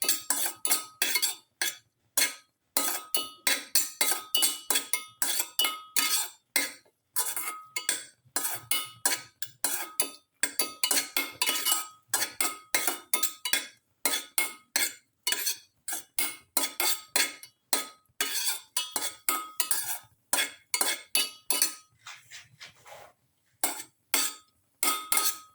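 Metal utensil clinking repeatedly against a pan while ingredients are sautéed for a sweet banana and rice flake dessert soup, a steady, fast run of bright scraping and tapping strokes, close and fairly loud, with no talking.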